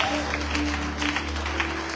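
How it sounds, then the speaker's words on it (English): Worshippers at a revival service clap their hands in praise, a brief soft patter of rhythmic claps beneath a low droning hum and faint voices. "Clap your hands, give God praise."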